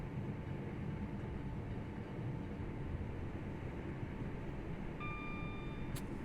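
A French TGV train runs in a video game with a steady, even rumble throughout, and a brief high chime rings out near the end.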